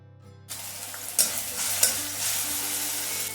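Garlic, green chilli, tomato and peas sizzle loudly in a pan. The frying starts suddenly and is stirred with a couple of scraping knocks while the hiss carries on.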